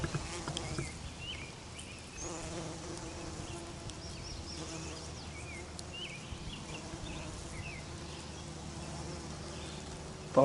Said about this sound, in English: Bumblebees buzzing all over them.